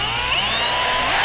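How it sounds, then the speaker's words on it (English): A power drill whines steadily and loudly close by while boring pilot holes in a plastic power box cover for USB ports, the motor pitch holding level and shifting near the end. "we're just gonna drill some pilot holes here"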